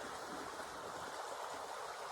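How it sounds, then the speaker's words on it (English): A small creek flowing beside a walking path, a steady soft rushing of water, faint and continuous with no voices. "We are still walking along this river, which has turned more into a creek, a smaller creek."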